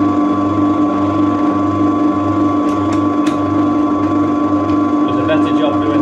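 Drill running steadily while boring 8 mm holes through a knife blank, a loud continuous whine with a pulsing low rumble and occasional sharp ticks of the bit biting metal.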